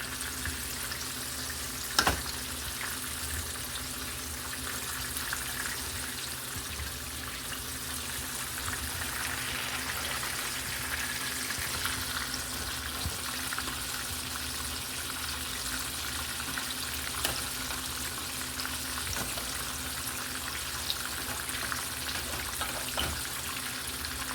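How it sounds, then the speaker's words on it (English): Spinach alfredo sauce stirred in a hot pan gives a steady, even sizzle and soft bubbling throughout, with a few sharp clicks of a utensil against the pan and no talking. "Mixing our sauce and that spinach in there"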